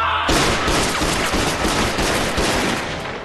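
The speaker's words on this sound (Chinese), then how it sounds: "你们听，这枪声越来越远了" Gunfire in a kung fu action film shootout: a dense fusillade of rapid, overlapping shots and cracks, loud and continuous, easing slightly toward the end.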